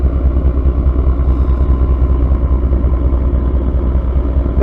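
A CSX diesel locomotive engine runs close by on a northbound train on the Fitzgerald Subdivision, a loud, steady, throbbing rumble with no pauses and no voices.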